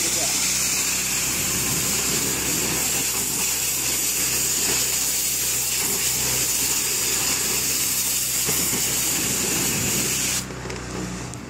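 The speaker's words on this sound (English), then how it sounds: "I'm rinsing the deck." A pressure washer runs at low pressure, just above garden-hose strength, rinsing a cedar deck with a steady, loud hissing spray over a motor drone. The spray cuts off near the end.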